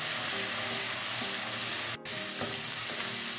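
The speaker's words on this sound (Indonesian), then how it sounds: "Kita tumis sampai harum ya." Bay leaves sauté in a pan with a steady, close frying sizzle that carries on throughout, broken by one brief dropout midway.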